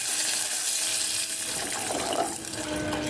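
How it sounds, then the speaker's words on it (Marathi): Water is poured into a pan of frying spices for kokum curry, a brief, close, steady gush with no talking. "आणि हे सर्व व्यवस्थित छान तळलं गेलं की आपल्याला लगेच पाणी घालायचं आहे."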